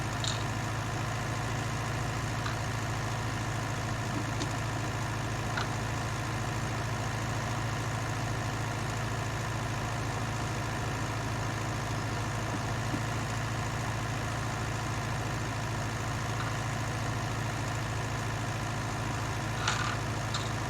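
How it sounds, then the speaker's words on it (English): A County 754 tractor pulling a Massey Ferguson plough uphill in 1966 gives a steady, loud, laboured engine drone that holds constant throughout with little variation. "Getting to that hill now, so it is making the tractor pull hard now."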